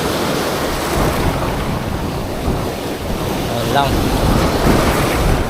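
Strong amihan monsoon wind buffets the microphone at a rocky seashore while waves and surf roar steadily close by; a voice speaks briefly over the constant blustery noise.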